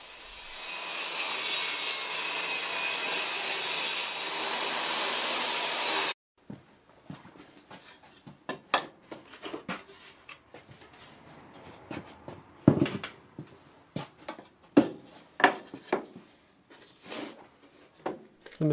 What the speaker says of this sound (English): I'm going to make a 10 centimeter cut, and then I'll swap it round and do another 10 centimeters